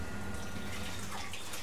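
Dizi (abgusht) broth, an orange-tinted meat stew, being poured out of a pot into a serving bowl, giving a soft, steady trickle and splash at low level with no talk.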